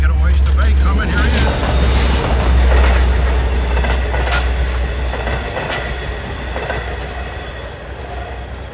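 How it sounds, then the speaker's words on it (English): A Long Island Rail Road train rolls through Queens Village station, a loud steady rumble of wheels with faint clickety-clack and brief squeals, fading slightly as it passes. "Should have 508 Jamaica to Oyster Bay coming"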